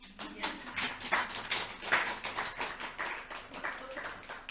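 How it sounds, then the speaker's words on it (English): A small group of people in a couples therapy session clapping together, an uneven patter of claps at moderate level, with speech-like sounds mixed in. "Yes, you can clap."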